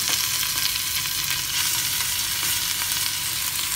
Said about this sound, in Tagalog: pagkatapos po natin malagyan, pwede na po natin itong ipan-fry